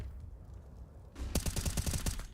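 Gunfire in Counter-Strike: after a quiet moment, a rapid burst of sharp automatic shots rattles off in quick succession, about a dozen cracks over a second, fairly faint overall.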